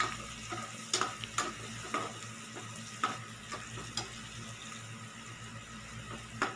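A spoon scrapes and clinks against a cooking pan as onions are stirred, giving irregular sharp taps over a soft sizzling background, with no talk.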